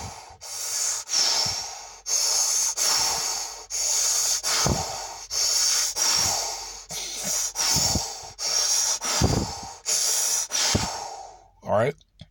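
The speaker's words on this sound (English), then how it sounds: "And so, and you take deep breaths." Slow, deep breaths drawn and released in a steady rhythm of long airy inhales and exhales during a breathing exercise, close and fairly loud, ending with a brief vocal sound.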